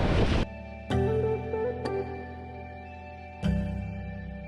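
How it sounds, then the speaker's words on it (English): Wind and sea wash past a Leopard 45 catamaran under sail between Tahiti and Fiji, a steady close broadband rush broken by a few louder surges of water, with no voices. "So all night we have had wind, we've been sailing along"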